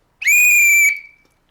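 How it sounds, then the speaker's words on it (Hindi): A single loud, shrill whistle blast rings out for about half a second inside a TV studio during a talk show, then fades quickly into silence. "ये आपने सीटी क्यों बजाई?"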